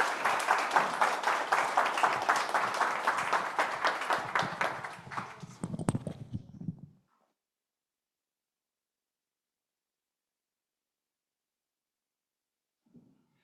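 An audience at a graduate research presentation evening applauds steadily after the final talk, a dense clapping that fades out at about seven seconds into silence.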